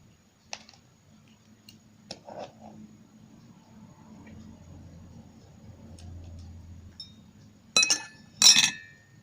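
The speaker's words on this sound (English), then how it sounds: "I'm going to pull the little strainer up." A small metal tea strainer and a spoon clink against a teacup in a few sharp, separate taps, with faint handling sounds between them and two brighter clinks at the end.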